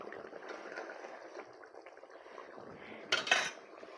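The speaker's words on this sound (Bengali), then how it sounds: "ঢাকনা দিয়ে দেব।" A lid is set onto a cooking pot of vegetarian curry with chopped coriander, a brief metallic clatter after quiet kitchen clinks and a soft simmer.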